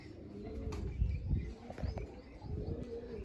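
A flock of about twenty-five homing pigeons, newly released around a home loft, coos in soft, rolling low murmurs that swell and fade continuously, close by, with light chirps mixed in.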